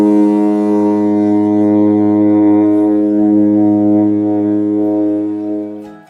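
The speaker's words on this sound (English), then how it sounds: "The foghorn seems timeless" Candlestick Park's ballpark foghorn sounds one long, loud, steady blast of deep layered harmonic tones. It holds for about five seconds, then fades out at the end with no talk over it.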